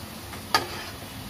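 Malai kofta balls frying in hot oil while being stirred, a soft steady sizzle with one brief sharp scrape or tick of the spoon, close and fairly quiet.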